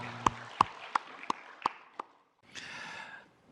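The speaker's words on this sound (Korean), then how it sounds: "살아계신 하나님께 영광의 박수 올려드리겠습니다" Church congregation at a Korean Sunday service clapping six slow, evenly spaced claps, then a short swell of scattered applause that fades out.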